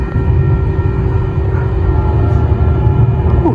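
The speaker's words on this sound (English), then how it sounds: "Ooh, listen to that horn." Norfolk Southern freight train horn blowing a loud, sustained tone over the heavy rumble of the passing locomotive and rail cars, close by and continuous throughout.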